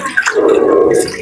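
Water is poured onto a screen printing screen used for wedding cards, giving a short gurgling splash and trickle that swells briefly and then tapers off, close and fairly loud.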